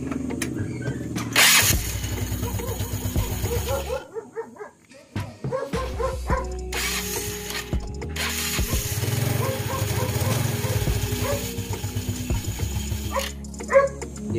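A small engine is started with its starter, cranking and catching in loud sputtering bursts with short pauses between. A dog barks repeatedly nearby throughout.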